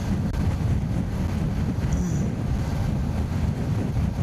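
Strong wind buffets the microphone in a steady, loud roar of low rumble and broadband noise, lasting throughout with no talk.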